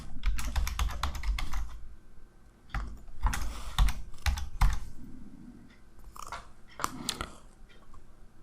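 Rapid clattering keystrokes on a computer keyboard as a password is entered, coming in several quick bursts separated by short pauses, close and fairly loud with no talking.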